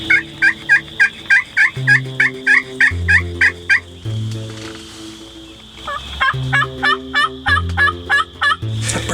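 A wild turkey gobbles repeatedly in rapid, rattling bursts. It is loud and close, alongside short electronic-sounding calls with no talk.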